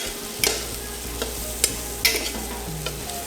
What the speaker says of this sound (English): I kind of want the turmeric and all these other flavours in here to toast through a little bit